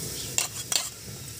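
Minced garlic stir-fries in a pan with a soft steady sizzle, broken by two quick scraping clinks of a utensil against the pan.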